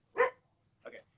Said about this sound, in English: sorry, I have lots of dogs